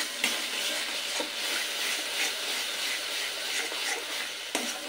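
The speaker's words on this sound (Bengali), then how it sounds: "তো মিনিট দুয়েক ধরে আমি মশলাটা একটু ভালো করে কষিয়ে নেব।" Spice paste for a bitter gourd curry cooks down in a pan with a steady, close hissing sizzle and a couple of light stirring knocks.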